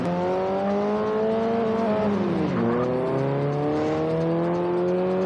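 A sports car accelerates hard, its engine note climbing steadily, dipping briefly at a gear change, then rising again, loud and close with a continuous whine, no voices.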